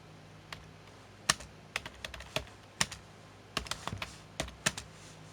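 Keys clack on a computer keyboard in quick irregular bursts of taps with short pauses, close and fairly quiet against a faint room hiss.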